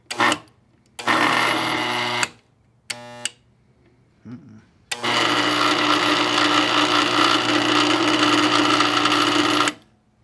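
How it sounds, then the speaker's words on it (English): A rewound Index electric motor runs on test after rewiring, starting in short bursts of loud droning hum with a brief chattering pulse, then settling into a long steady whine before cutting off. "So we have the motor mounted, we've got power running up to the switch, we've rewired it back in."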